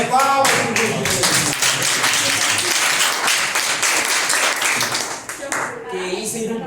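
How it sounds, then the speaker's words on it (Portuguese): Energetic group clapping in a physics class on electric fields, loud and dense with rapid sharp claps filling the room, mixed with shouting voices throughout and tapering at the end. "Palmas, gente!"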